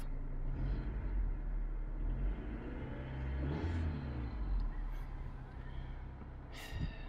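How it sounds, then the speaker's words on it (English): A 2000 Honda Civic EX engine idles with a steady rumble, then is revved a couple of times, rising and falling, heard close. "So give it a bit of a rev."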